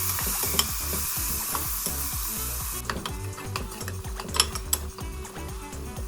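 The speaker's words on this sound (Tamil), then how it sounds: "இப்போ இது கூடவே நம்ம கட் பண்ணி வச்சிருக்கிற தக்காளியும் சேர்த்து நல்லா வதக்கிக்கலாம்." Chopped tomatoes sauté in an oil-filled pan for kuska biryani, giving a steady loud sizzle with repeated rhythmic scraping stirs. The sizzle brightens partway through as the tomatoes go in, with a few sharp utensil clinks and no talking.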